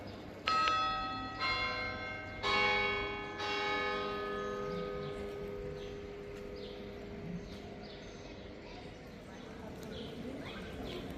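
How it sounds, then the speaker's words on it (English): Church bells in Zurich, Switzerland ring out in a stack of overlapping tones, loud at first with several strikes, then settling into a sustained, fading hum over city background noise. "You can hear the churches ringing in the background."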